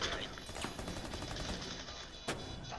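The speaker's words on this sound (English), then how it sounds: "they're shooting through the window" Gunfire in Rainbow Six Siege, rounds fired through smoke and a window: a dense, sustained burst of rapid shots carries throughout, with a sharper crack near the end.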